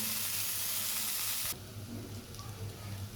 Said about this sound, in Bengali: ফুলকপি এবং আলুর পিসগুলো ভাজা হয়ে গেছে